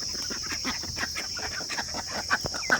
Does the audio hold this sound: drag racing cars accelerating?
no